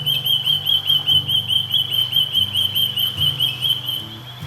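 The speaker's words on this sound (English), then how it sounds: "can hear the Australian native birds in the background." Australian native birds call in the background with clear, high repeated whistling notes in a regular rhythm, over a low steady hum, fading slightly at the end.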